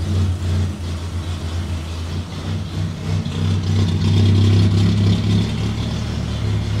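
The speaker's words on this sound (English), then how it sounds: "I think what we've got to do now is just start the car." A V12 Jaguar XJS engine runs close by with a steady, throaty idle, then swells as it revs higher midway and holds a louder, busier note before easing slightly.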